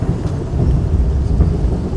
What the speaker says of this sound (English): The thunder was just thunder.